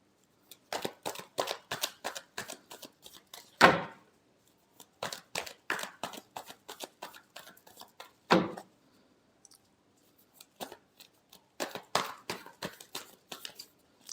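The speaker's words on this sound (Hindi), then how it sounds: "last shuffle" Tarot cards being shuffled in quick bursts of dense riffling flicks, three separate shuffles each closed by a louder snap or tap of the deck, close and clear with no talking.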